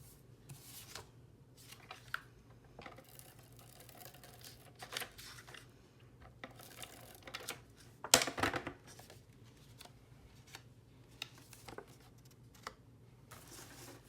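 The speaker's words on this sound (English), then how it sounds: "I'm going to just tape this." Tape pulled and pressed onto paper in a journal: faint scattered rubs and taps, with one sharp ripping tear near the middle, close and quiet, no voices.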